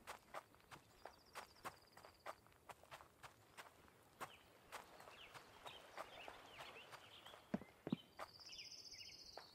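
Footsteps land steadily and repeatedly in a survival video game, a close, regular stream of crisp impacts over a quiet ambient bed. Faint high tones and a brief whistling sound join near the end, with no speech.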